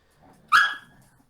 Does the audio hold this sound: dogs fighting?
yes